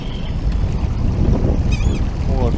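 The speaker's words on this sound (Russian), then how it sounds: "Сейчас они меня просто, эти чайки, заклюют." Gulls call in short, harsh cries near their nest in a driftwood snag on the water, heard over a steady low rumble of a boat motor.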